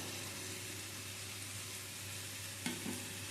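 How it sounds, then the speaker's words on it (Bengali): Boiled, drained raw jackfruit going into a potato masala, a quiet continuous sizzle from the pan with one brief clack of a stirring utensil near the end. "আলুর সঙ্গে মশলাটা কষানো হয়ে যাওয়ার পরে আমি এর মধ্যে দিয়ে দেব সেদ্ধ করে জলটা ঝরিয়ে নেওয়া এঁচোড়টা"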